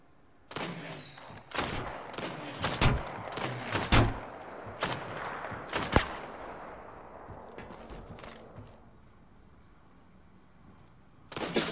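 Apex Legends gunfire: sharp, loud individual shots and short bursts cracking at irregular intervals, some echoing, with quieter gaps between them and a final cluster of shots at the very end.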